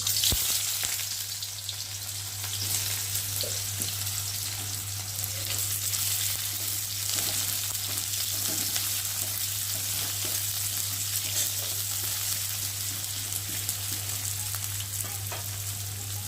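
Chopped onion frying in hot oil in a wok, a continuous crackling sizzle with occasional stirring scrapes, steady and close throughout, no one speaking.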